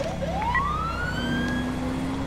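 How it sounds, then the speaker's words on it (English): A Touchmaster Delta police siren in a video game wails, rising in pitch and sweeping up, heard from inside a vehicle over a steady engine drone. "the siren that we are currently using"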